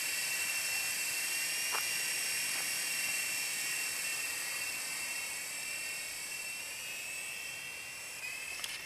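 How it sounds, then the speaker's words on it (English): A helicopter flies past, its high whining turbine drone and steady rotor noise holding fairly constant at a moderate distance before slowly shifting as it moves away. "Bye-bye helicopter."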